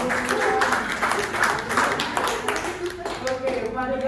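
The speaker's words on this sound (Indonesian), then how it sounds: "berikutnya mari kita beri tepuk tangan untuk Pak Dias, Bapak dan Ibu." Audience applause at the closing ceremony of a training class, a steady patter of many hands clapping over several seconds with a voice speaking faintly underneath.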